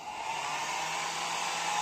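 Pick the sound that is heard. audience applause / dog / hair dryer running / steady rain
hair dryer running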